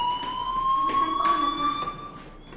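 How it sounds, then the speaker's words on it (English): A school fire alarm rings in the video game Life Is Strange as a steady, piercing electronic tone that holds continuously throughout, with faint background sounds beneath it. "do you hear that fire alarm?"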